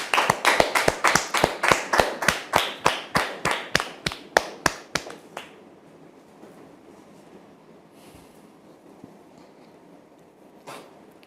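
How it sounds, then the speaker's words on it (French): A television studio audience claps in fast, even unison, roughly twenty sharp claps over five seconds, then stops and leaves a quiet room hush with a couple of faint knocks. "Je vous demande de la recevoir sous vos applaudissements, s'il vous plaît"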